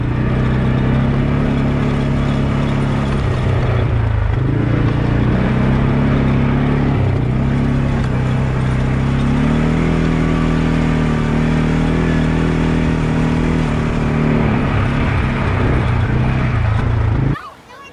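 CFMoto 500 CForce ATVs ridden on a ranch with mountains nearby, their engines droning loud and steady with small shifts in revs, a voice talking over them, and the engine noise cutting off at the very end.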